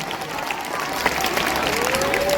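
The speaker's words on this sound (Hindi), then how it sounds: "सिस्टर गोपी के दो ताली बजाइए" Audience applause for Sister Gopi at a St. Mary's School Taraon event: steady, dense clapping from a crowd that fills the whole stretch, with a sung or sustained tone drifting through it.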